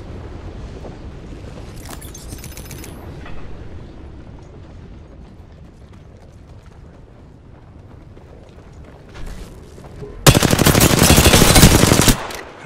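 Automatic weapon fire in the shooter game Apex Legends: faint scattered shots under a low ambient rumble, then a loud, sustained burst of rapid gunfire near the end that cuts off abruptly.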